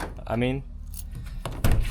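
A short mechanical clack and whir of Ram ProMaster van door locks unlocking, followed by a sharper thunk, with a voice speaking briefly just before.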